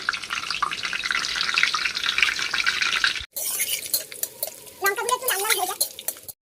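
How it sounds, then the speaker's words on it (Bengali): Whole dried red chillies, bay leaf, cardamom, cloves, cinnamon and cumin sizzle in hot oil for a palak chicken dish, a steady loud hiss that cuts off briefly, then returns with stirring and crackles. "ফোড়নের জিরে এবং শুকনো লঙ্কা লাল লাল করে ভাজা হয়ে গেছে"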